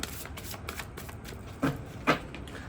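Tarot cards are shuffled softly at close range, with a faint riffling patter and two sharper card snaps near the end. The shuffling is quiet, with no speech over it.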